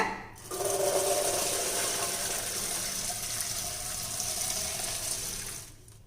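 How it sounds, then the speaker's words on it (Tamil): Blanched green peas drained from hot water through a strainer, a steady broad rush of pouring, splashing water lasting several seconds close by, with no talking. "இப்போ நம்ம வெந்நீரில் போட்ட பட்டாணியை வடித்து எடுத்துடலாங்க"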